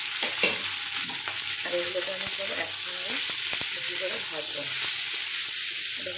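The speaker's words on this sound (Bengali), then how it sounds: "সবটাই কিন্তু হাই হিটে ভাজতে হবে" Onions, beans, carrots, capsicum and cabbage stir-frying together on high heat for spicy Maggi, a close steady sizzle with repeated scraping and stirring strokes and a voice talking over it.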